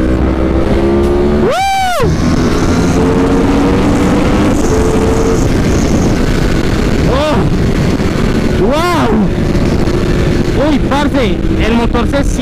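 A high-revving 2018 Yamaha R1 sport motorcycle engine roars past nearby with a sharp rising and falling whine. Several more engines buzz by later over steady background noise.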